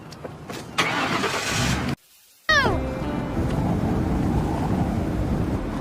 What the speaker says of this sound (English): This is a moving car.